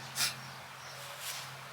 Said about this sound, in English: there's a very high pollen count today as well, so forgive the sniffling